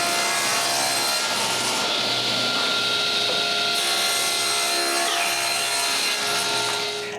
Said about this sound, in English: I straighten the miter gauge and cut the remaining 2 sides